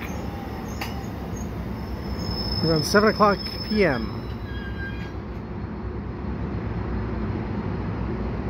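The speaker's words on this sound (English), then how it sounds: "This is an outgoing EXO train here at Cedar Park." An outgoing EXO commuter train pulls away from Cedar Park station near dusk with a steady, moderately loud rolling rumble, while a voice briefly speaks over it.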